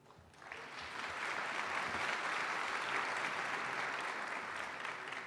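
Audience applause at the UVM College of Medicine White Coat Ceremony, a dense, steady wash of many hands clapping that swells in after a quiet start and holds evenly, heard from a distance and fairly faint.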